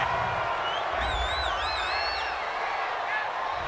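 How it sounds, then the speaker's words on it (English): Video game stadium crowd from Madden 20 at a Texans vs Bears American football game, a steady, dense roar of booing and jeering after a roughing-the-passer penalty, with whistles and whoops rising above the sustained noise throughout. "this crowd does not like that call"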